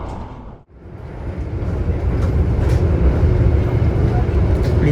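A passenger train on the Jakarta–Surabaya line past Semarang rumbles and clatters steadily, loud and close from inside a carriage, with a brief dip before the rolling noise builds again.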